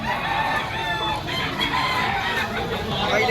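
A rooster crows amid clucking gamefowl in a busy, noisy yard, the calls blending into a dense, continuous chorus.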